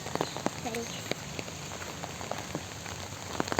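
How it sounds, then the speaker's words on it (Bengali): Steady rain patters on surfaces with scattered distinct drops, faint and continuous, with a brief voice in the background. "বৃষ্টি হইতাছে।"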